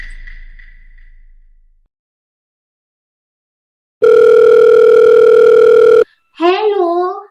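A telephone dial tone sounds loud and steady for about two seconds after a stretch of near silence while a phone call is placed, then a short burst of voice follows.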